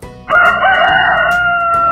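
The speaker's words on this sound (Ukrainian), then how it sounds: "Півник голосно співає, все подвір'я сповіщає" A loud rooster crow rings out up close, a single long cock-a-doodle-doo that holds steady and strong to the end.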